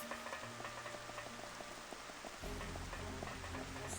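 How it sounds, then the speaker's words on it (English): Rain falling in the Xenoblade Chronicles: Definitive Edition video game, a steady hiss of raindrops on surfaces over low background music, continuous and moderately loud throughout. "oh boy, why is it raining?"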